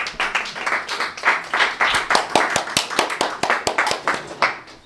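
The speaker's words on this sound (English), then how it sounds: "Give him a round of applause." An audience at a venture capital event gives a round of applause for a speaker, with loud, close, rhythmic clapping from a modest crowd that tapers off near the end.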